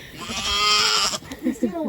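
Goats bleat loudly and close by in a snowstorm, one drawn-out wavering bleat followed by shorter calls, with people talking over them.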